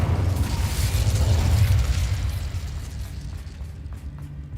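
A fiery burst from the Incendio spell in Hogwarts Legacy, a loud low rumbling whoosh that swells for about two seconds and then trails off into a quieter roar.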